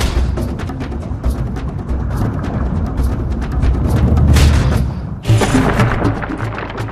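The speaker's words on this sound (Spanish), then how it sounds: "La explosión de una supernova causa estragos en el planeta Tierra" A deep, rumbling boom rolls on for several seconds, swells, then a second blast hits sharply near the end and trails off.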